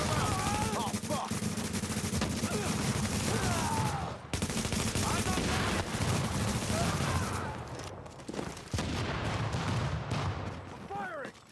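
Sustained gunfire in a firefight in The Division, dense rapid automatic bursts mixed with single shots filling most of the stretch, loud and close, with brief gaps and voices calling out over the shooting.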